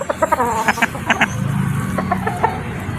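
A Straight Golden Boy gamefowl rooster from Cebu clucks close by in a steady run of short, throaty calls with a few sharper accented notes, with no talking over it.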